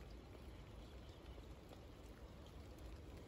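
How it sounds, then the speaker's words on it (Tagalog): Light rain falls on a home garden after two dry, hot days, giving a faint, even hiss of steady drizzle throughout with no distinct drops standing out. No one speaks. "Kanina pa siya umuulan."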